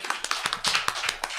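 An audience at a school board meeting claps in a quick, uneven burst of roughly ten sharp hand claps over a second and a half, moderately loud and close, with no talking.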